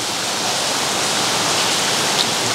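Steady rain falls in an outdoor natural setting as a dense, even hiss, loud and close, with no voices.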